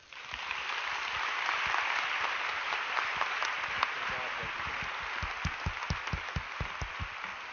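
An audience breaks into sustained applause to welcome speaker Marc Prensky at an education event, steady broad clapping filling the room for the whole stretch, with individual claps growing more distinct toward the end.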